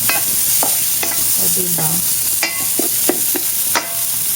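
Already-cooked grilled chicken sizzles in a hot pan while being sautéed, with a steady frying hiss punctuated by sharp scrapes and clacks of a utensil stirring; one brief spoken remark.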